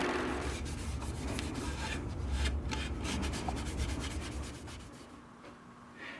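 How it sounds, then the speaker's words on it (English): Close, steady rubbing and scratching as the edge of a live edge cedar vase is buffed by hand, one continuous passage of repeated strokes that fades slightly near the end. "There's going to be some hand buffing at the edge here."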